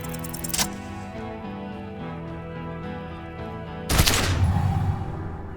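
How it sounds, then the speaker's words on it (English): A gun goes off in the detective game Disco Elysium: a loud, sudden blast near the end cuts across a sustained musical drone, with an earlier sharp crack at the start and a ringing tail afterward. "A plume of smoke and fire erupts from the gun, and your hand goes numb from the explosion."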